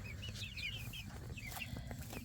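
Several chickens cluck and cheep close by, a steady busy chatter of short calls with a low rumble underneath and no talking.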